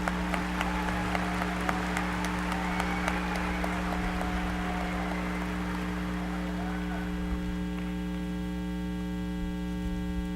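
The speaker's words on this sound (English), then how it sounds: "Let's give those 4 students another round of applause" Applause at a high school graduation ceremony comes through a PA system, with crowd clapping strongest at first and then fading under a loud, steady electrical hum.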